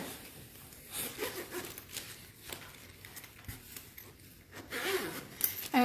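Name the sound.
zipper closing on a craft storage carrying bag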